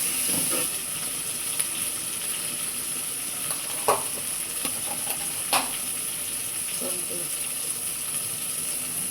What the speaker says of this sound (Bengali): পেঁয়াজের সাথে মাখিয়ে দেবো লাড়া দিয়ে দিয়ে দেবো আদা রস আদা রসুন এবং জিরা একসাথে বাটা